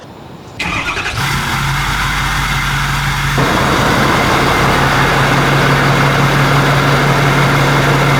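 A 6.7L Powerstroke diesel truck engine with a large turbo cranks and catches, then settles into a steady, loud, low idle that rumbles on without a break.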